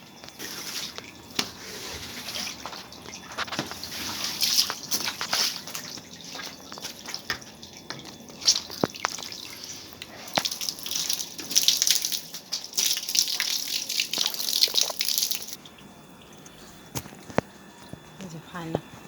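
Water splashes and runs across a veranda floor as it is washed, a continuous wet hiss with drips and footsteps, fading near the end; a voice speaks over it at times.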